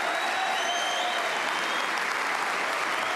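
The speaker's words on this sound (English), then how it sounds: "The crowd raised the roof." Snooker crowd at the Waterfront Hall applauding a century break in the Northern Ireland Open 2024 final, a steady, dense wash of clapping filling the arena throughout.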